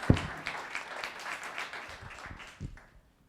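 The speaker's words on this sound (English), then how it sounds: "She gets an extra big round of applause." A town council meeting audience in Los Gatos gives a warm round of applause, full and steady from the start, tapering off into a few last claps before going quiet.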